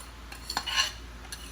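A utensil stirs pancit noodles with sauce in a pan, producing a brief soft scraping and clinking with a faint sizzle, close and quiet.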